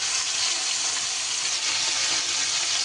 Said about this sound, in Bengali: তেল বেশ সুন্দর করে গরম হয়ে গেলে এবার আমি মাছের মাথাগুলো দিয়ে সুন্দর করে ভেজে নিই